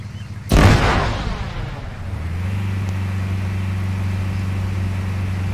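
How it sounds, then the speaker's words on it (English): A sudden booming blast in the Arma 3 military shooter, a sharp loud burst that decays over a second or two before settling into a steady low vehicle engine rumble. "Oh, explosion."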